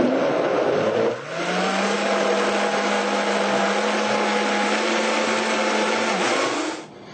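A kitchen blender whirs steadily through a vegetable mixture, with a brief dip in pitch early on before settling into a constant high-speed hum. It then spins down near the end, close up with no voices.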